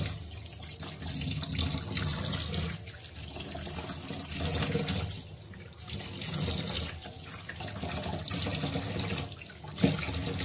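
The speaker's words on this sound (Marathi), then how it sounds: "स्वच्छ असं नळाच्या पाण्याखाली छान असं धुवून घ्यायचं" Raw chicken is rinsed under a running kitchen tap, a continuous rushing of water into a sink with splashing and shifting flow as the pieces are handled, plus a brief knock near the end.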